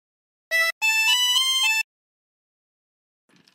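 A 24-hole tremolo harmonica plays a short Bella Ciao phrase, one brief note and then a run of wavering reedy notes, loud and alone, before a faint trailing sound.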